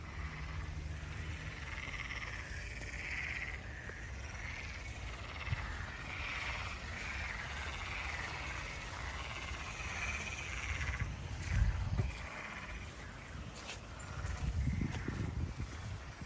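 Frogs croak in a botanical garden, a steady outdoor chorus at moderate distance with scattered louder rustles and footsteps toward the end.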